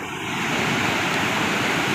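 A large waterfall pours down, its water rushing and swirling in a dense, steady roar that stays loud and unbroken throughout, with no voices heard.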